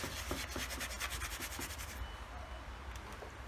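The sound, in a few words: Scotch-Brite pad scrubbing rust off steel helmet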